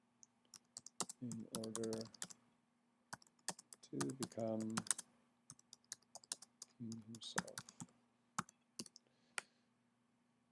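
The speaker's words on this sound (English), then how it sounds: "Sorry about the typing, but I'm a finger pecker." Slow, irregular typing on a computer keyboard, with sparse individual key clicks spaced apart, close and fairly quiet, while a person speaks intermittently between the keystrokes.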